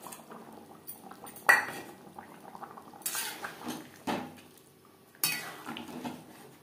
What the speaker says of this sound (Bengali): 3-4 মিনিট গ্রেভি বেশ ভালো করে ফুটিয়ে নেওয়ার পর দিয়ে দেবো ভেজে রাখা মাছ